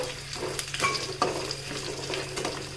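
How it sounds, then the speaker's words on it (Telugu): Curry leaves, chilies, green chilies and peanuts crackle and sizzle in hot oil, with a steady fry broken by sharp pops and a few stirring scrapes, close and alone with no talk. "వీటన్నింటిని బాగా వేయించుకుందాం ఒకసారి"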